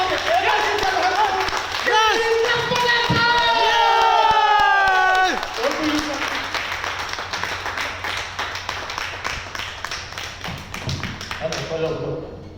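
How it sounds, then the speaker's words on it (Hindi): A standing audience cheers and claps to welcome the chief minister at an event, loud whoops and shouting voices over rhythmic clapping and thumps, the cheering dropping away after a few seconds while scattered clapping continues. "खड़ा होकर अपने जोरदार तालियों के बीच"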